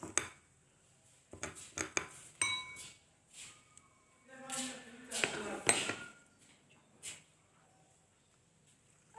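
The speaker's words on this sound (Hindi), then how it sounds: "इन सबको मिक्स कर लें।" Spoon clinking and scraping against a small bowl while mixing ingredients with a quarter teaspoon of desi ghee for a hand beauty paste, in irregular bursts of close taps with brief pauses between.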